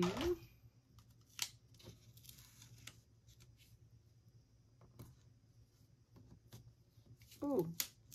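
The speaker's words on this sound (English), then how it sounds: "I'm just kind of trimming some of them off" Scissors trim small pieces for a craft project, giving quiet scattered snips and paper rustles, with a voice heard faintly alongside.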